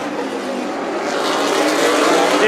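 Race cars roar around Stockton 99 Speedway in a SPEARS Southwest Tour Series event, engine noise swelling louder as cars pass close by.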